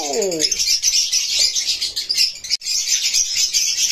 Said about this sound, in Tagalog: update natin itong ibon dito sa loob ng ibonan ni Sir Ronnie